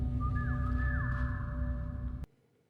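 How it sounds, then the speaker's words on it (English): A sharp rising-and-falling signal whistle rings out over a low rumbling background, a couple of sliding pitched notes before everything cuts off abruptly into near quiet. "that's the whistle the flag smashers do, isn't it?"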